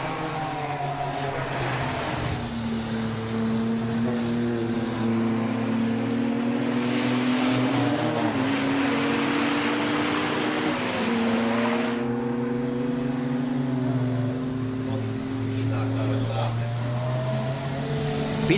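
Race cars at a circuit racing championship in Riga, including a diesel-powered BMW, drone steadily with overlapping engine tones rising and falling as they pass, continuous and moderately distant, with an announcer talking over them throughout.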